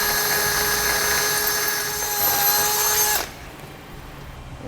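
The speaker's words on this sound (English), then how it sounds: "you'll finish it with a 3/8 drill bit." A power drill with a 3/8 bit whines at a steady high pitch, the tone dipping slightly as it bites into material while enlarging a pilot hole on a 2017 GMC Acadia, then stops abruptly, leaving quiet room noise.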